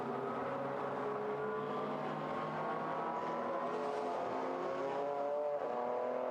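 GT race cars of the SRO GT Cup at Zhuhai roar toward the first corner, a dense, continuous engine drone from several cars at once, steady and loud, with no voices.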